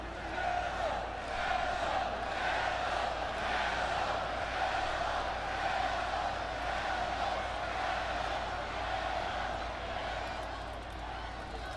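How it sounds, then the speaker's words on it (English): A large arena crowd at a wrestling event in Boston chants loudly and rhythmically for local wrestler Melo, a sustained roar with pulsing repeated chants throughout. "Boston crowd chanting loudly for Melo, the local boy"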